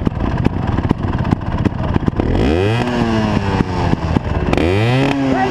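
A trials motorcycle ridden in snow in Scotland, its engine close and loud, popping at low revs and then revving up twice in rising bursts, with no talk.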